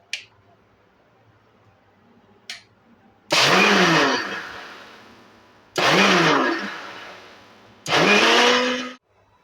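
Three loud bursts from a kitchen blender mixing mango milkshake with cream and ice cream, each pulse whirring up and winding down, set apart by short pauses after a couple of faint clicks.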